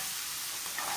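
Ginger, garlic and green chilies sautéing in oil for a mutton karahi, a steady close sizzle and hiss with no talk.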